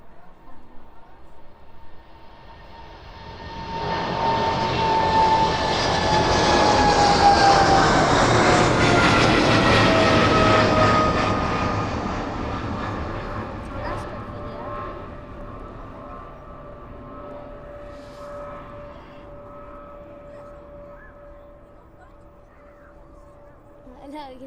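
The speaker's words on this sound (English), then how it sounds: "777 finally making its way out to Leipzig this evening" Boeing 777 jet departing East Midlands Airport for Leipzig in the evening, its engine roar swelling from a distance to a loud broadband peak with a falling whine, then fading slowly as it climbs away; commentary runs over it.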